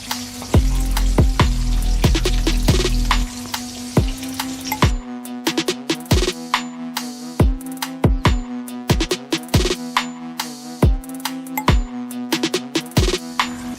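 Chicken pieces sizzle and crackle in hot oil in a pan, a dense loud fry for the first few seconds, then lighter with sharp intermittent pops and spits over a steady bubbling hum.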